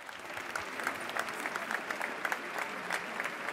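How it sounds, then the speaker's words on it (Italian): At an evening festival in Matera, an audience claps steadily for a guest called to the stage, a sustained, moderately distant patter of many hands with no voices standing out. "Applausi per Vito Chiefa."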